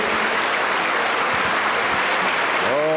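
A church congregation at an evangelical campaign in Peru claps loudly and steadily, a dense wash of applause with a voice rising at the end.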